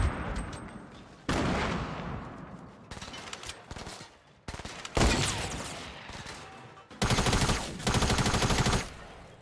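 Rapid bursts of TAC SMG fire in Fortnite ring out in several separate volleys, loud and close, with short pauses between the sharp, dense strings of shots.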